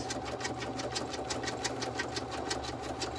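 An embroidery machine stitches an in-the-hoop vertical wallet, its needle running in a fast, steady, even rhythm with a mechanical hum, close and loud, with no talking.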